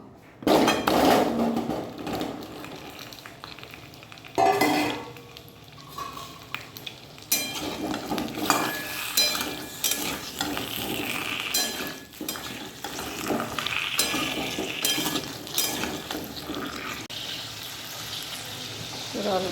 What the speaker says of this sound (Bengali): কড়াই তেল দিয়ে দিয়েছি গরমও হয়ে গেছে দেখো প্রথমে আলুগুলো ভেজে নেব